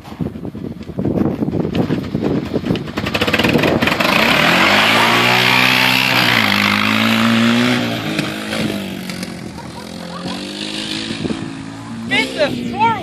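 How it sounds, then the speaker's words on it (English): A four-wheeler ATV engine runs loud and close as the quad drives beneath a fifth wheel trailer, its steady drone rising and holding, then easing, with wind buffeting the microphone. "Fit the four-wheeler under there."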